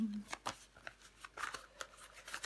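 Tarot cards laid out and covered on a table, a series of soft quick slaps and rustling flicks close to the microphone, with a person speaking quietly between them.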